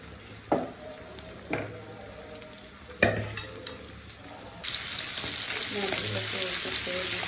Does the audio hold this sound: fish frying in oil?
yes